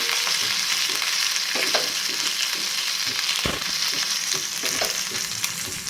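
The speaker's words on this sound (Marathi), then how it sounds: "यामध्ये आलं आणि हिरवी मिरचीचा ठेचा घालून घ्यायचा हा दोन मिनटे जिऱ्यासोबत तुपासोबत आपण परतून घेऊया छानपैकी" Ginger and green chili paste sautés in hot ghee with cumin, giving a steady, close sizzle with occasional scraping stirs of the spoon in the pan.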